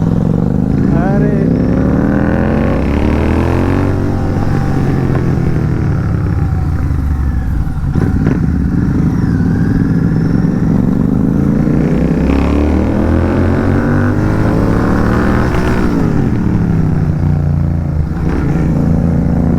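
A GT 650 motorcycle engine is ridden at night, loud and close, with repeated throttle blips and rising and falling revs, a raw rumbling exhaust and someone talking over it.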